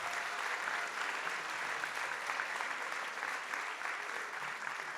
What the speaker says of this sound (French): je vous demande vraiment d'applaudir cet enseignant